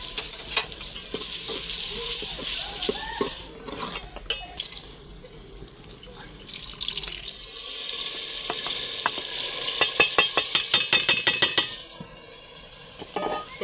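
Spices and tomatoes frying in a pan while a masala is prepared for dal mash, with steady sizzling, stirring and scraping of a utensil against the pan, plus a run of sharp clinks near the end.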